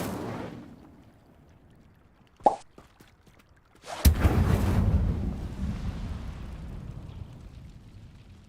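An Incendio fire spell cast in Hogwarts Legacy gives a sharp crack followed by a loud whooshing burst that roars and slowly fades, after a quieter earlier pop and rumble.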